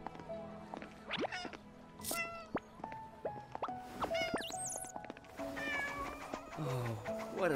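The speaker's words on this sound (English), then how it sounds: "Oh, what a lovely kitten." A kitten in Genshin Impact mews in several short, high, chirpy calls scattered across the clip over light pattering and background game sounds.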